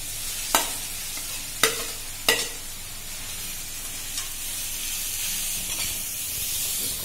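Grated carrots for gajar ka halwa fry in hot ghee in a pan, a constant soft sizzle broken by three sharp scraping stirs of a spoon early on and fainter taps later.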